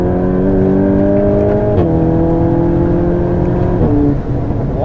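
A VW Golf 8 GTI Clubsport pulls hard from inside the cabin, its engine tone climbing steadily through gears with two quick shift dips, loud and close with no talking.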